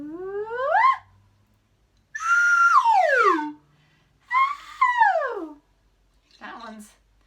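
A voice imitates a slide whistle with several sweeping whistle-like glides, rising in the first and falling in the next two, separated by short pauses.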